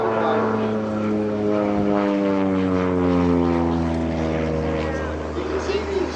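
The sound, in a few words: carbon fiber aerobatic competition airplane flying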